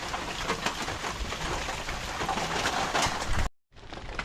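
Steady rain falling during heavy wet-weather downpours over a tomato garden, a dense continuous hiss of drops on surfaces that runs loud and even, then cuts out abruptly before resuming somewhat softer at the very end.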